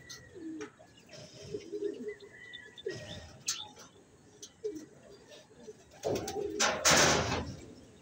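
Racing pigeons coo in soft, repeated calls at a club loft as birds arrive, with a few louder bursts of wing flutter and movement near the end and some faint talk in the background.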